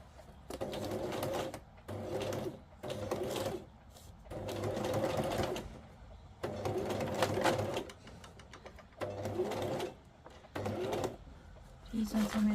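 A sewing machine stitches in short bursts of rapid whirring, broken by brief pauses, and is heard close and fairly loud alone.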